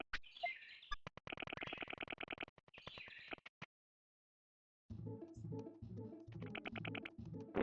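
Bird chirping from the PS1 game Digimon World, heard as rapid, sped-up trilling tweets in two bursts, separated by a short silent gap.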